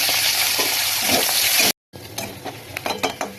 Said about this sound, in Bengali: এবার দেখো পেঁয়াজ দিয়ে দিচ্ছি